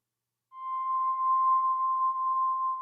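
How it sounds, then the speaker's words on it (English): A high, sustained synth tone from the Luftrum Lunaris ambient pad enters after a half second of silence and holds steady and clear, with faint upper overtones, alone and at an even level to the end. "And I added some high tones on this one."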